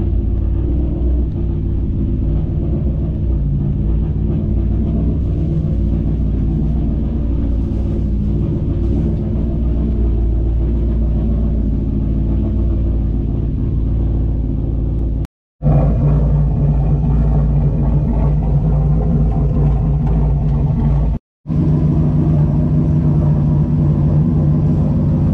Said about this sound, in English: Let's get the GMC fired up and backed up in there and try and get it hooked up.